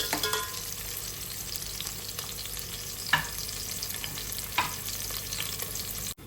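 Curry leaves, green chillies and seasoning fry in a pan with a soft, steady sizzle, broken by two distinct scraping clicks of stirring, quiet and close with no voices.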